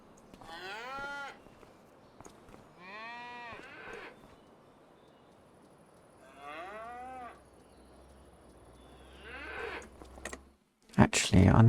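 Cattle moo in the Farming Simulator 25 video game. Four long, drawn-out moos come one after another with short pauses between them. A sharp, loud burst follows at the very end.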